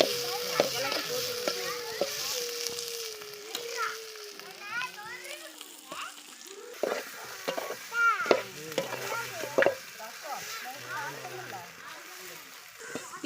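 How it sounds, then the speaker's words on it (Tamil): Masala crackles and sizzles in hot oil with popping mustard seeds while being stirred for a tempering, a busy frying texture running under a talking voice and children's voices nearby. "கடுகு பொறிஞ்சிட்டு இருக்குதுங்க மசாலாவை போட்டுடலாம் மசாலா போட்டு தாளிப்பு கொடுத்துருங்க"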